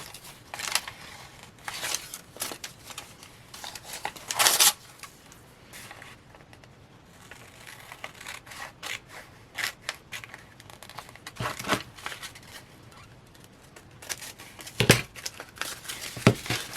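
Scissors trim excess paper off the pages of a glue book, giving close, crisp snips and crinkling paper rustles at an irregular pace, with quiet gaps between cuts.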